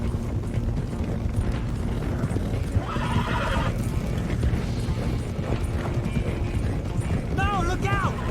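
In Red Dead Redemption 2, horses gallop in a dense, continuous clatter of hooves while whinnies and neighs cut through near the middle and end, all layered under loud game action and speaking voices.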